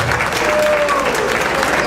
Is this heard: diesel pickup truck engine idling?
no